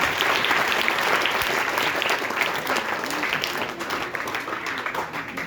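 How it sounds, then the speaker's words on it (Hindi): An audience at a World Hindi Day ceremony applauds after a welcome song with steady, dense clapping for about five seconds that slowly eases off. "तालियां बजाकर।"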